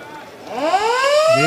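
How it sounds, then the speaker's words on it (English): Half-time siren at an Australian football match, a loud rising wail sounding across the ground near the end of a brief stretch of crowd noise. "Siren,"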